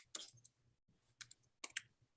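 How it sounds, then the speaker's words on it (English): Quick clicking keystrokes on a computer keyboard, three short bursts of typing separated by pauses, close and quiet. "Typing in a verse here"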